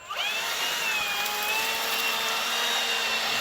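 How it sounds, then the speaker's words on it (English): A leaf blower clears leaves out of an S10 project truck. Its loud, steady, high whine holds close and constant throughout. "So she's got the blower. We're gonna blow this thing out real quick."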